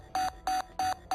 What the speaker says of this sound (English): That's the backup alarm.